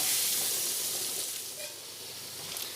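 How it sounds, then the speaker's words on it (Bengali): Potato pieces coated in turmeric fry in hot oil, giving a constant bright hiss and sizzle that stays steady with slight fluctuations and no voices. "আলুগুলো খুব ভালোভাবে ভেজে নেব লাল করে"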